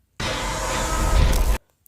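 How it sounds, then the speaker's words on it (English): Spawn sound for the Twins killer in the video game Dead by Daylight, a single loud, dense noisy burst of about one and a half seconds that rises slightly before cutting off sharply, heard alone. "whenever Charlotte spawns a fresh version of Victor, it makes this sound"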